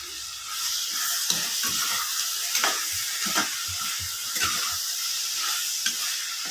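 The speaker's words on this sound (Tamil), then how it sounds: "நம்ம நல்லா எறாவை போட்டு கிண்டி விட்டாச்சு" Prawns sizzle in a hot pan while a utensil stirs them, with regular scraping knocks against the pan over a constant frying hiss.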